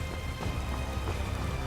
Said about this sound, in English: It's not like a thunderstorm, but you can tell that like the raindrops are like really big and heavy.